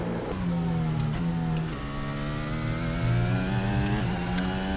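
F1 car engine on a pole lap at Abu Dhabi in F1 2023, running a very low rear wing, screaming at high revs with quick pitch drops at upshifts and downshifts, loud and steady without voices.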